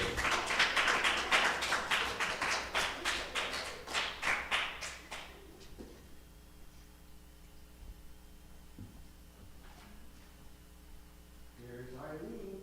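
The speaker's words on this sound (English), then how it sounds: "One more round of applause." An audience at a talk gives a round of applause, dense pulsing clapping for about five seconds that quickly dies away, leaving room hum and a brief voice at the end.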